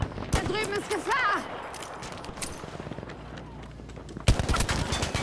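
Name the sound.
gunfire in Battlefield V video game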